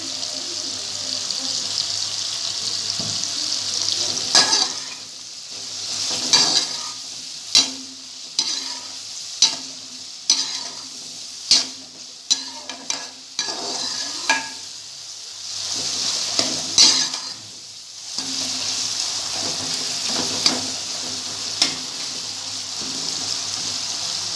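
Diced lauki with whole green chillies frying in a pan with tomatoes and masala, a steady close sizzle broken by repeated sharp scrapes and clatters of a stirring spoon against the metal.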